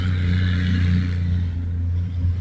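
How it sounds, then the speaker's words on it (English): A heavy truck rumbles past outdoors beside a backyard beehive, a loud steady engine drone with strong low tones that fades slightly as it moves on. "Sorry about the loud truck."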